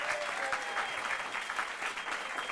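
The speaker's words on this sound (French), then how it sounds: "Et là, paf, tout le monde applaudit" A studio audience at a New Year's Eve television show applauds steadily, a faint, even wash of clapping with a thin tone lingering in the background.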